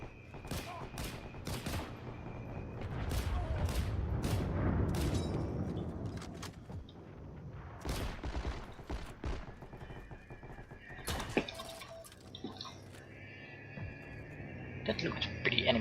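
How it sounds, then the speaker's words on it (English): Gunfire in the video game H&G Frontlines: rapid cracks of rifle and automatic fire come from several directions, some close and loud and others far off, spread over a continuous battle din with a faint voice now and then. "getting shot at from everywhere"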